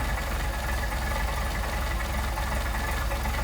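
A Mercedes 190SL engine idles steadily while its Solex carburetor is adjusted, giving a constant close, loud mechanical rumble with an even low throb and no talking.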